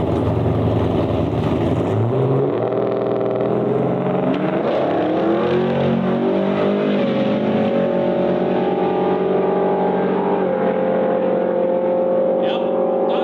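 Drag racing car engine at a quarter-mile track, loud sustained revving with pitch rising and shifting through gears, close and continuous with no talk.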